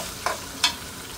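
Fish cooks in a pan over low heat with a soft background sizzle, broken by two quick scraping stirs about half a second apart. The sound is fairly quiet, with no voices.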